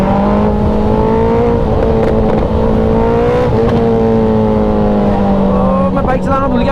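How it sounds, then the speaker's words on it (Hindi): A Suzuki Hayabusa motorcycle engine drones steadily and loudly while being ridden, a strong, even hum with rushing wind noise and a slight rise in pitch near the end. "मैं इतने टाइम बाद बाइक चला रहा हूँ"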